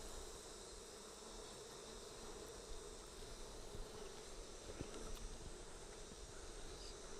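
Honey bees in a hive fitted with flow frames give a steady, dense buzz close by, swelling slightly in the middle of the clip as the colony briefly grows agitated, with faint rustling and no talk.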